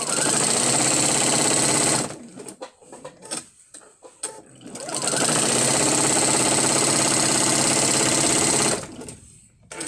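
A sewing machine runs in two long steady bursts of rapid stitching, loud and close, with a short pause of fabric handling between them.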